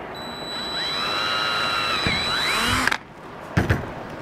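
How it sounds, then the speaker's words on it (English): A regular cordless drill with a 5/32 bit whines as it bores into plastic on a Ford Bronco roof area, a rising, wavering motor pitch that cuts off abruptly, followed by a short clatter. "I've just got a regular cordless drill. I'm going to chuck up my 5/32 drill bit."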